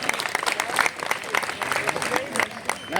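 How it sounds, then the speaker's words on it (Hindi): Loud applause from an audience at an NDMC public event on Lodhi Road in New Delhi, a dense, steady patter of many hands clapping for the full stretch, with a voice talking over it. "जोरदार तालियों से हार्दिक अभिनंदन और स्वागत।"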